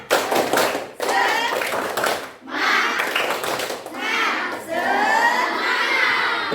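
Children in an Indonesian classroom shout and clap together in a loud rhythmic group cheer, several bursts of chanting voices over about six seconds.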